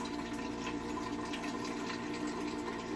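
Water runs steadily from a tap into a container, a continuous even rush heard alone at low volume.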